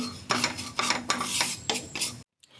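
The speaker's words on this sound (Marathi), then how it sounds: "आता आपण पॅनमध्ये खसखस भाजून घेऊया खसखस छान खमंग अशी आपण भाजून घेऊया" Poppy seeds dry-roasting in a pan for a traditional Ganesh Chaturthi khirapat, with repeated scraping, rasping strokes of a spoon against the metal in bursts before ending abruptly in silence.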